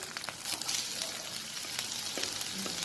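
Onions frying in hot oil with ginger garlic paste, a bright steady sizzle with occasional crackles and a soft stir or two, heard close with no talk.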